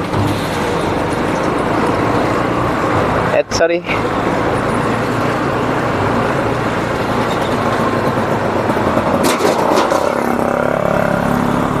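A motorcycle rides across a suspension bridge in a teak forest, its engine droning steadily and close throughout, with brief clattering bumps and a voice speaking over it.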